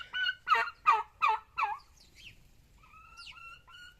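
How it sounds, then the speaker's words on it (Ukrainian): A male turkey gobbles, a rapid run of five loud rattling notes followed by higher drawn-out calls, close by and otherwise quiet. "він весь час кричить. Так що це індик, пацан."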